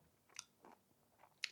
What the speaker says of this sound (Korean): 무말랭이가 오독오독오독 씹히잖아?